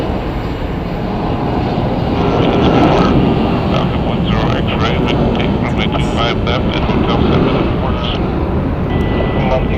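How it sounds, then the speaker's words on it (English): A Boeing 737 MAX 8 jet at Phoenix Sky Harbor Airport gives a loud, steady engine roar and rumble up close, sustained through the whole stretch with a broad, dense low-frequency drone. "Boeing 737 MAX 8. Let's get some close-ups."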